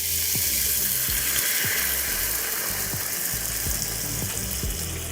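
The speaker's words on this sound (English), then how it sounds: "Let's add in water, just enough for the sweet potatoes to cook completely well." Water is poured into a pot of sweet potatoes for blanching, a steady rushing splash heard up close with a few light clinks against the pot, and nobody speaks.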